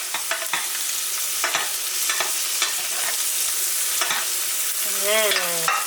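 Butter sizzles steadily in the pan with garlic added while a steak cooks. Repeated scrapes of the stirring spoon sound close and clear over the sizzle.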